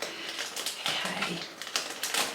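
Paper and envelopes of post rustle and crinkle as they are cut open with scissors, close and busy with irregular crisp snips and crackles.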